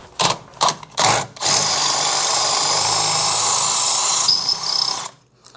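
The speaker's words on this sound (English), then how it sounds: "I have to drill it out. Let me get the drill." A power drill bores out a stuck, rusty Phillips screw on a 1973 Mercedes R107 450SL. A few short bursts give way to a steady, close, high-pitched whine lasting about three seconds before it stops.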